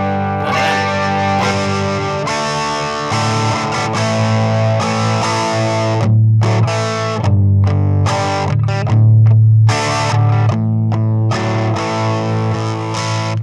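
A heavily distorted electric guitar played through a cheap beginner practice amp with the gain turned high, sustained crunchy chords ringing loudly and continuously, close and alone with no talking.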